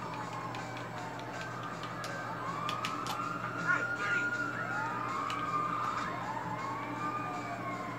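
A wailing ambulance siren in Grand Theft Auto 5 rises and falls in repeated sweeps over a steady low rumble, moderately loud and continuous, with faint scattered clicks.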